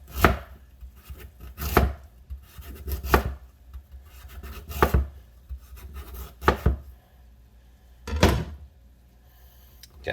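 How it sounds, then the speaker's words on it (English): A knife julienne-cutting a heavy amount of ginger into matchsticks on a board, several loud, close chopping strikes in irregular clusters with quiet scraping between them and no talking. "just making like matchsticks, julienne cut, whatever you want to call it"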